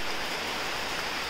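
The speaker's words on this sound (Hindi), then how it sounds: "आई डोंट नो आपको आवाज़ आ रही है कि नहीं, पर इतना ज़ोरों से अभी बारिश हो रहा है।" Heavy monsoon rain pouring during Cyclone Yaas, a dense, steady hiss of downpour filling the whole clip at constant loudness with no talking over it.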